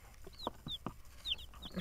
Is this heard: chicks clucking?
yes